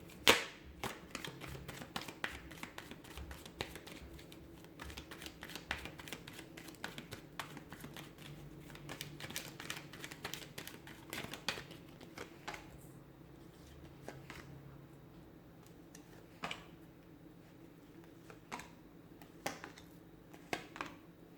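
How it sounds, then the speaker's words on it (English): Soft, rapid riffling and tapping of cards being shuffled, in repeated bursts close to the listener, with quiet gaps between them. "give the cards a shuffle, and let's begin."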